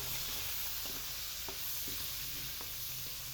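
Tomatoes sizzle in a frying pan with a soft, even hiss of cooking, punctuated by a few faint taps from the spoon or spatula.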